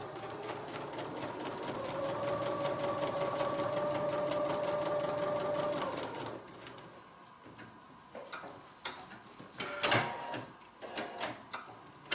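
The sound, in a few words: sewing machine stitching a paper-pieced quilt block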